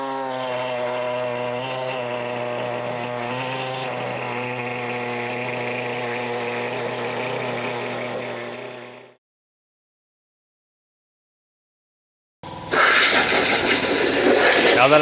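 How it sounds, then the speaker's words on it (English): An air-powered reciprocating saw of the kind body shops use cuts through car sheet metal. It gives a steady, loud pneumatic whine with a buzzing tone, then stops into silence. A harsh burst of hiss follows near the end. "we have this air powered sawzall here that body shops are using, and this is what we prefer to cut the sheet metal"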